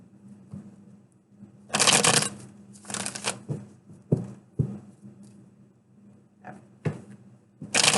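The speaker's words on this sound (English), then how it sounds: "Two more shuffles." Tarot cards are shuffled by hand in several quick, crisp riffling bursts, with soft taps and rustles between them, close and fairly quiet.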